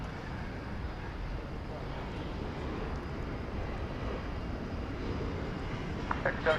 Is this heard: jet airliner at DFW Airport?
yes